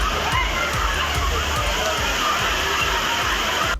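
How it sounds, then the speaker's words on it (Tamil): Water pours steadily at Panchalinga waterfall in the Thirumoorthy hills, where tourists are bathing. The continuous, loud rush of falling water has splashes and faint voices mixed in. "உடுமலை அருகே திருமூர்த்திமலை பஞ்சலிங்க அருவியில் சுற்றுலா பயணிகள் குளித்து மகிழ்ந்தனர்."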